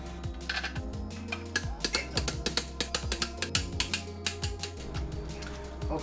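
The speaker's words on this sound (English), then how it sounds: "now we have to torque down the transmission case, all 14 bolts, to 29 Newton meters" A torque wrench ratchets transmission case bolts down on a Toyota Celica transmission under rebuild, giving steady rapid clicking in quick repeated bursts, close and fairly loud over a low background hum.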